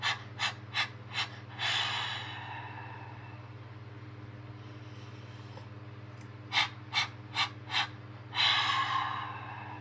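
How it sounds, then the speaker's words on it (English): Fire breath breathing exercise: two bursts of four short, sharp, rhythmic nasal exhalations, each set ending in a longer forceful breath, close and clear over a low steady background hum. "There's breath work that you can do. Fire breaths. Fire breaths go something like"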